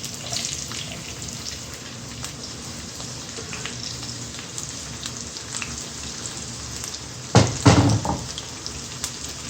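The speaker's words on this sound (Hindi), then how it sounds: "हमने प्याज़ों को फ्राई करना है तेल में, इनका कच्चापन दूर करना है" Onions and green chillies fry in oil for an egg curry, giving a steady, moderate hiss that jumps into a louder burst of spluttering near the end.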